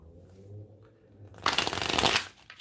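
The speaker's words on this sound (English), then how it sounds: "One more shuffle on that." Tarot cards shuffled in a brisk riffle close by, a dense papery burst of about a second following a stretch of low room hum.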